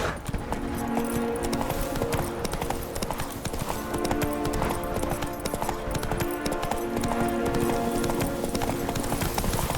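A horse gallops in The Witcher 3 video game, with a steady, rhythmic clip-clop of hooves that continues for the whole stretch, loud and close, over a dense background of game sound.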